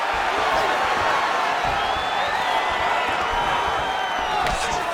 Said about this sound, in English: listen to the reaction from the crowd